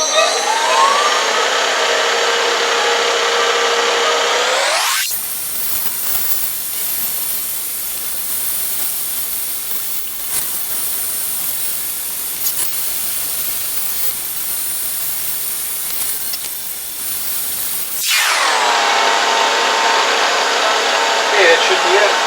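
A metal lathe runs at 2000 RPM on a small turning cut, with a bright, steady high whine that drops away into quieter hiss for a stretch before the same whine returns.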